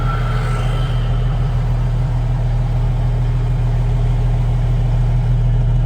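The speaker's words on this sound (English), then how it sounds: "Here comes an empty Western Star with a super hopper" Empty Western Star truck hauling a super hopper trailer at a wheat harvest, its heavy diesel engine idling with a loud, steady low throb close by, continuous and unchanging throughout.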